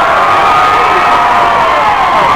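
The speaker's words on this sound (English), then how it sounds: "My goodness, the crowd erupted on that flag like they scored." A high school football stadium crowd roars after a penalty flag in a 2001 Shadyside versus Monroe Central game, a loud, sustained, distant wash of cheering and shouting voices.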